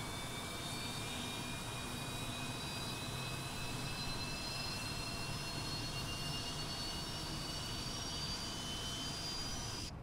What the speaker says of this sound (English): And that engine's going to start on up as we do our push.